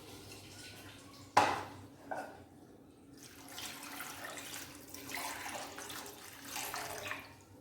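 Water poured into a pot of cut potatoes with skins on, starting with a sudden splash and then running and sloshing steadily at close range.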